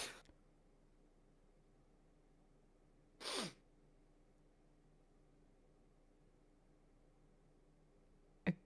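A character sneezes in a courtroom video game, one sharp loud burst in the middle of near silence, with brief breathy bursts at the start and end.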